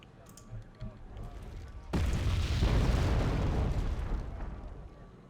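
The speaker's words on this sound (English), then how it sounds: "Still artillerying some of our positions." An artillery shell explodes in the war strategy game Wargame: Red Dragon: a sudden heavy boom breaks in partway through, then a broad rolling rumble that slowly fades.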